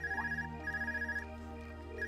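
A ringing phone in the video game Trails of Cold Steel trills in repeated electronic bursts over a soft, steady music bed, with no talking.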